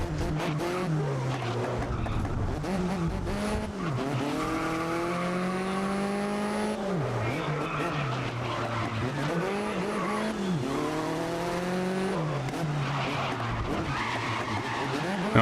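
An LMP race car in GRID (2019) screams through gear changes with repeated rising engine sweeps, while its tires skid and squeal through corners, loud and continuous throughout.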